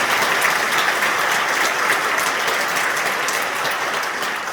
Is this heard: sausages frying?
no